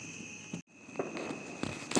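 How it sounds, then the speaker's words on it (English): Fourth of July firecrackers popping outdoors, a few sharp cracks scattered across the moment, mid-distance, with a faint steady background tone. "More firecrackers."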